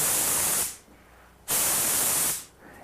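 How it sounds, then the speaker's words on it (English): A spray gun sprays guitar paint at 40 psi in two sustained, loud hissing bursts, each cutting off sharply into near quiet between passes. "I'm spraying at 40 pounds pressure"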